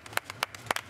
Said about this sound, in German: eine Runde Applaus für euch